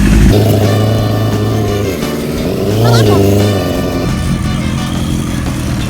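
A tuned vintage motorcycle engine revs loudly and up close, its steady idle rising into a brief throttle blip midway before settling back to a rumbling idle.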